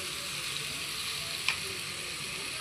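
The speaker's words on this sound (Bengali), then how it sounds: "এবার লঙ্কা জিরে দিয়ে দিবেন, পুরো এই পরিমাণে হলুদ দিয়ে দিবেন।" Chili, cumin and turmeric frying in a pan for a small lime fish dish, giving a steady, even sizzle with one brief tick partway through and no voices.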